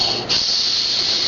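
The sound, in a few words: child imitating a snake's hiss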